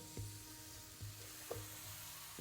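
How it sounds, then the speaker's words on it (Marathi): Chopped tomatoes sautéing in an onion-spice mixture for a traditional Maharashtrian katachi amti, a steady quiet sizzle in the pan with a few soft clinks of a spoon stirring. "तर हे कापून घेतलेले आहेत मी टोमॅटो, ते ह्या मिश्रणात आपण आता परतून घेऊया"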